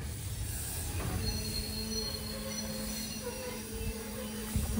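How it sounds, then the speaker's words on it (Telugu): Passenger train of the Guntur Express slowing to a halt at a tiny station on the Nandyal–Guntur line, heard from on board: a low rumbling ride with a thin, sustained wheel squeal running through it as it brakes. "మన ట్రైన్ అయితే ఆగిందనమాట"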